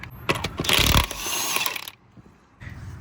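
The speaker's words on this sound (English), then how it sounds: "So we're gonna go ahead and remove the lug nuts. This is a 22 millimeter." Lug nuts come off a Ford F150 rear wheel with a 22 mm socket, a close burst of loud mechanical ratcheting and rattling, then a short quiet gap before a softer clatter at the end.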